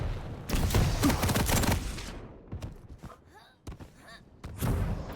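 Rocket launcher blasts and explosions in Quake Champions arrive as a dense burst of heavy thumps, then scattered sharper hits and a final cluster, loud and close in a chaotic match.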